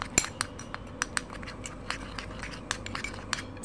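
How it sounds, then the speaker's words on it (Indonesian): A spoon stirring a seasoning paste with olive oil in a bowl, making repeated light clinks and taps against the bowl at an uneven rhythm, close and fairly quiet with no talking. "sekarang saya aduk dulu bumbunya ya, sampai halus"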